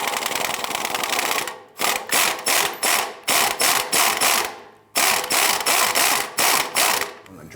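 A hand ratchet works an exhaust manifold bolt on a 1999-2004 Jeep Grand Cherokee, loud close bursts of rapid metallic clicking in even strokes, broken by a few short pauses.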